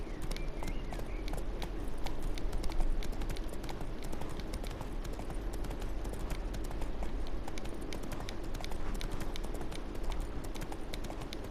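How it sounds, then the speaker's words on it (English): Rapid, steady clip-clop of horse hooves at a trotting pace in The Witcher 3: Wild Hunt, continuing without a break over a low background hum. "Horse."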